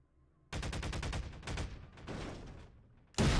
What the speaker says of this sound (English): Alright, someone was shooting.